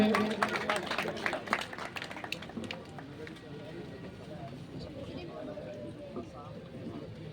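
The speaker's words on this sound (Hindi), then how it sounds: "स्वागत के लिए एक बार तालियों से जरूर गड़गड़ाहट करें" Audience applause at a Ravidas Jayanti celebration in Surya Nagar, Alwar: a burst of crowd clapping, dense at first and then thinning out over several seconds as a hum of voices lingers beneath.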